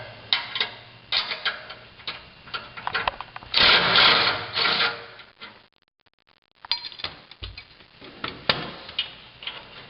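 Impact driver removing exhaust bolts on a 2003 Ford Mustang Mach 1 during a FlowMaster exhaust install, heard as bursts of rapid mechanical rattling hammering with a brief pause midway, close and fairly loud.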